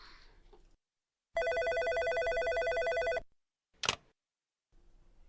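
An electronic telephone ring sounds as one loud, steady trilling burst of about two seconds, followed by a brief clack like a handset being picked up, with faint voices at the start and end.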